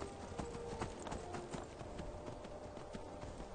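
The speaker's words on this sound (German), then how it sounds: "Gib mal bitte ein bisschen Gas, Pferd." Horse hooves clip-clop at a steady gait while riding through Skyrim, with the rhythmic footfalls continuous and fairly close throughout.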